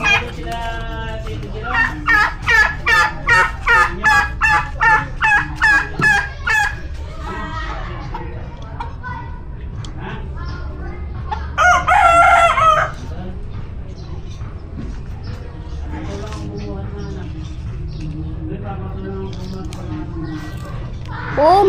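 A turkey gobbles close by in a loud, rapid series of rattling pulses, then gives another short burst later, while people talk and react around it.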